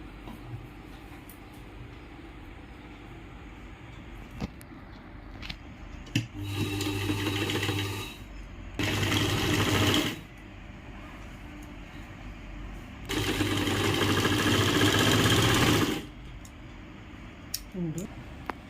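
Sewing machine stitching the shoulder seams of a blouse, running in three separate bursts of rapid, steady mechanical whirring, close and fairly loud, with quiet pauses and small handling clicks between the runs.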